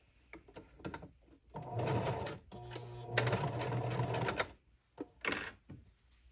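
A sewing machine stitches an elastic seam on a skirt made from a tablecloth, running in two longer bursts of rapid mechanical whirring bracketed by short clicks and taps.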